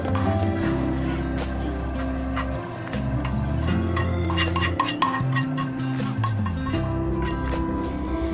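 Steel pots and utensils clink and scrape as roasted gram flour for besan barfi is moved from the pan into another vessel, with steady metallic clatter close by and no voices.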